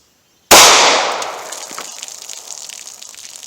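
A Hornady Critical Defense .38 Special light 90-grain load fired from a 1.875-inch revolver barrel: one sharp, loud gunshot crack that rings and decays over a few seconds, with no talking.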